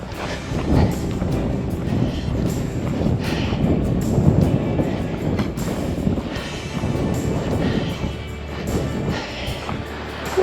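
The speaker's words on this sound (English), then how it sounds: "this cold wind has started to chill me to the bone" Cold wind gusting across a desert hiking trail in Joshua Tree National Park, California. Broad, rough buffeting rises and falls in uneven gusts close to the microphone, continuous and fairly strong, with no talking.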